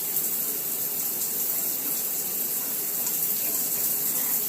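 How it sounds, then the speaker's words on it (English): A bathroom shower with an Anespa water system runs steadily, giving an even, hissing spray of water that holds constant and close throughout, with no voices. "And switch it again to the shower."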